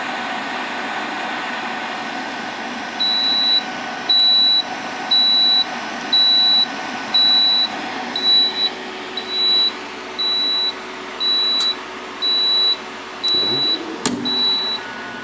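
A reflow soldering oven's alarm gives a regular series of loud, sharp electronic beeps at steady intervals over a background hum, with a brief clatter near the end.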